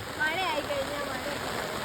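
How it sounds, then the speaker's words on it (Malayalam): Heavy rain pours down around a house, a dense, steady roar of falling water that fills the whole stretch, with a faint voice briefly mixed in. "പ്രളയത്തിന് ശേഷം ഇങ്ങനെ ഒരു അടിച്ചുപൊളി മഴ കാണുന്നത് ഇത് ആദ്യ"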